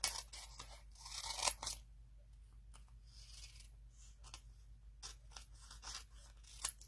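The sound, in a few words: scissors cutting adhesive sheet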